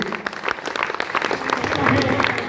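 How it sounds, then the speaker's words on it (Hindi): Audience applause from a crowd at a Safeshop business event in Patna, steady dense clapping that holds close and loud throughout, with a few voices mixed in. "एक बार इनके नाम पर फिर से जबरदस्त ताली"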